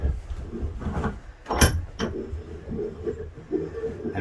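A wooden ferro rod handle, wrapped in cloth, is set and clamped into a small vise: close wooden knocks, rubbing and one sharp clack, with faint shuffling between.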